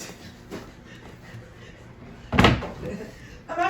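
A door thuds shut once, a sharp, fairly loud knock standing out from a murky background of room noise and faint voices as someone heads out.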